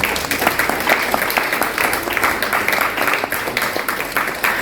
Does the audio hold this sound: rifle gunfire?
no